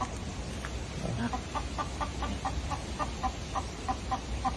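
Chickens cluck in a short, regular series of calls, fairly close, over a steady low rumble of background noise with no talking.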